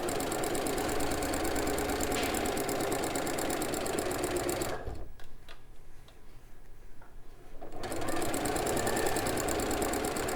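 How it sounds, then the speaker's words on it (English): A walking-foot sewing machine stitches two long lines along a beach bag, running in a steady fast mechanical patter that pauses briefly midway, then resumes at full pace. "we're just sewing those 2 lines all the way along"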